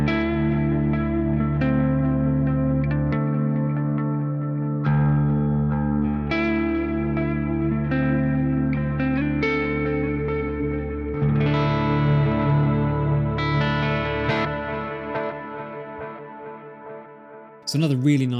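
Electric guitar through a driven ambient Neural DSP artist preset, sustained chords and notes soaked in chorus, echo and reverb with light distortion, loud and upfront for most of the stretch before fading away.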